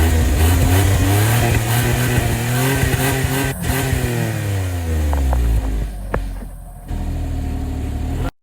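A Suzuki DA63 4WD mini truck engine revs up and down in repeated rising and falling sweeps, loud and close, with a brief dip and a sharp burst near the end.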